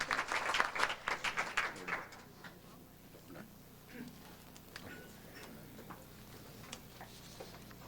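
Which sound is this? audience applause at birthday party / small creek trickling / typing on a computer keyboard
audience applause at birthday party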